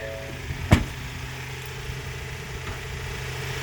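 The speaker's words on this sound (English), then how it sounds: "You can quite clearly hear the engine running." A 2018 Ford Transit Custom van's engine idles steadily with a low, even hum after a single sharp knock near the start, with no one talking.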